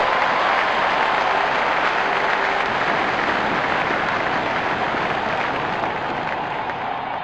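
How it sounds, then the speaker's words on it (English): Loud, dense crowd roar at a Cricket World Cup match between Sri Lanka and Afghanistan in India, a steady wash of cheering and applause that holds at full volume throughout without a break. "Crowd going mad here."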